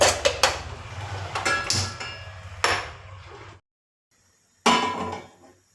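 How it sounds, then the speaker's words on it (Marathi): A metal pan is set down on a home stove: several close clanks and scraping rattles, a moment of silence, then one more sharp metallic knock that fades. "तर इथं मी एक पॅन टेकवला."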